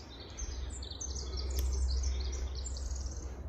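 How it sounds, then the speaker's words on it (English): Birds chirp and sing continuously high in a forest, a busy layered chorus of short calls over steady low rumble of wind or distant background, with no talking. "Pretty bird."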